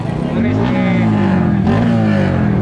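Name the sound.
drag race car engine revving while warming up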